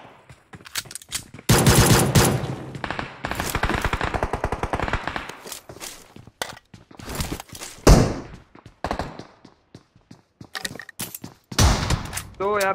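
Gunfire from the mobile battle royale game PUBG Mobile, including AWM sniper shots and grenades: repeated loud bursts of automatic fire and single heavy shots, spaced irregularly, with occasional thuds between them.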